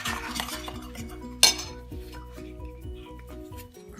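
Apple pie filling being mixed in a bowl with a utensil, rapid rhythmic clinks and scrapes against the bowl, close up, with one sharper knock partway through.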